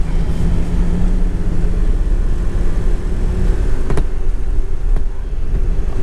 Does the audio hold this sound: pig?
no